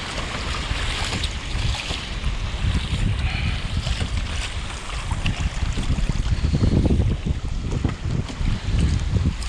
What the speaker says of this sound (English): A lot of current over here right now.